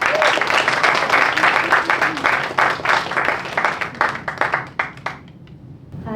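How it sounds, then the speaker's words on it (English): A live show audience gives a performer a round of applause, with loud dense clapping from many hands that thins into scattered individual claps before fading out. "Can we please give her another round of applause?"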